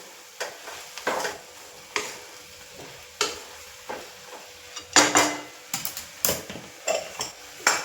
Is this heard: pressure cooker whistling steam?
no